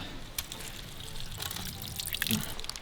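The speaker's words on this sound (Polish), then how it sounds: "źródełko z wodą, już mi się prawie woda napełniła" Spring water beside a small wayside chapel in the Carpathian mountains trickles into a nearly full bottle, a soft close splashing with occasional brighter drips, heard without talk.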